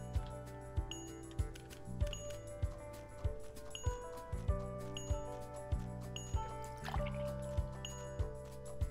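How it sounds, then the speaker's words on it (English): In the video game Dave the Diver, a watering can pours over planted crops with soft, evenly spaced splashes and drips against a quiet, gentle music bed. "After planting, don't forget the watering can to water them."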